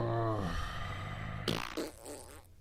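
A short, low, rasping fart sounds under ongoing podcast chatter, the voices continuing close around it in a casual studio setting.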